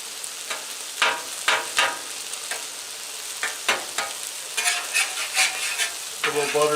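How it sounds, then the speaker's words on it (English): Eggs cook in a hot pan while fried rice is being made, a steady sizzle punctuated by repeated close scraping and tapping of a utensil against the pan, with no talk. "let's get our eggs cooking"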